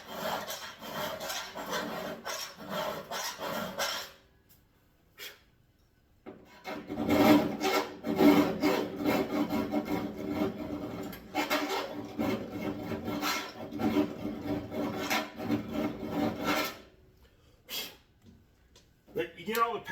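Rough rasping scrapes as paint is worked out of holes in a Rambler car door trim, in bursts of rapid back-and-forth strokes separated by brief pauses, close and fairly loud.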